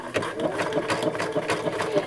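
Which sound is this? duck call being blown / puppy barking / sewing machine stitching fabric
sewing machine stitching fabric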